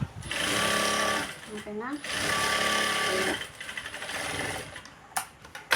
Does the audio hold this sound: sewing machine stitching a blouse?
yes